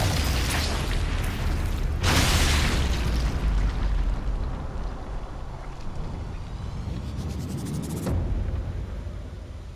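A grenade goes off in the video game Sniper Elite 5, with a heavy blast near two seconds trailing into a rumbling decay, and another sharp burst later over continuous game noise.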